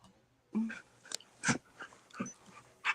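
A puppy gives wet licks and soft whimpers up close in a quiet room, several short bursts of lapping and whining spread over a few seconds, with light breathing between.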